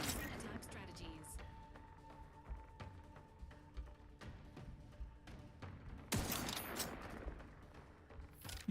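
Gunfire in the sci-fi RPG The Outer Worlds 2, scattered shots and bursts going off repeatedly across a busy combat mix, with a heavier loud flurry near the end and people talking over it.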